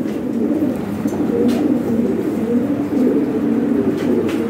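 Lahore Shirazi pigeons coo steadily at close range in a low, continuous murmur, with no voices.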